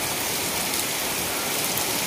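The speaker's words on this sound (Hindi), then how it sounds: "बहुत तेज हो रही है बारिश।" Heavy rain falls outdoors as a dense, constant hiss without breaks, fairly loud and steady, with no voices over it.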